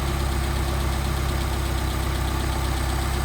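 An engine fitted with a rebuilt Solex carburetor runs steadily near idle, a close, even, pulsing drone with a slight knocking rhythm and no voices.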